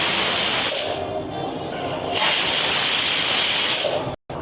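A pressure cooker vents steam while khichdi cooks, giving a loud continuous hiss that swells and eases in waves and cuts off briefly near the end.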